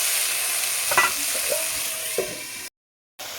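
Tomatoes frying with salt sizzle steadily in a pan while a utensil stirs them with a few scraping knocks, followed by a short silent gap before the sizzle resumes.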